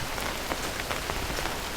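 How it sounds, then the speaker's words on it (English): Rain taps gently and evenly against an open umbrella's tight fabric, a near, steady wash of fine drops with faint individual plinks throughout. "Rain begins to tap gently against it."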